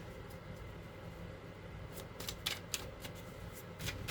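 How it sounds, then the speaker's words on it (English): Soft, quick riffling of tarot cards being shuffled, a few crisp bursts standing out over a low steady room hum, no talking. "Let's get a good shuffle here."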